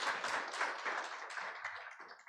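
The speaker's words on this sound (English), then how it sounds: "I would like that we give them a hand clap" An audience gives a round of applause for Parliament at a youth work anniversary event, a dense, steady patter of many hands clapping at moderate volume.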